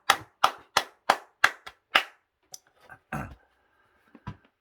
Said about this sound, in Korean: 주님께 영광을 박수합시다